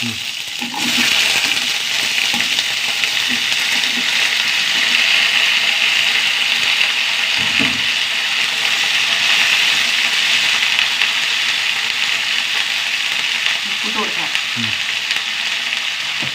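Mustard seeds, dried red chillies and curry leaves crackle and sizzle steadily in hot oil, a continuous close frying hiss with occasional stirring knocks and pops, and no voices.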